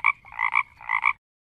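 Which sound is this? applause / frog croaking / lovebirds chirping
frog croaking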